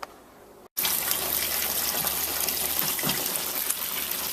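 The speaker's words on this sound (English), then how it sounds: "You can see I just play the water across the surface of the grain." Water sprayed across the surface of the grain during sparging while brewing a pale ale, a loud continuous splashing gush that starts abruptly after a short quiet moment and keeps going steadily.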